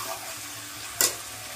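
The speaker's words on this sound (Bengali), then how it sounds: "ভালো করে কষানো হবে।" Mutton being stir-fried in a pan for kosha, a soft continuous sizzle with one sharp scrape of the spatula partway through.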